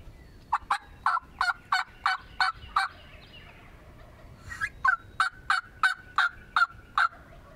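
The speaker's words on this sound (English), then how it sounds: "They've been gobbling the whole way" Wild turkeys gobble during a Kansas spring hunt, with two bursts of rapid, evenly spaced gobbling calls, one in the first half and another after a short pause, clear and moderately near over quiet outdoor background.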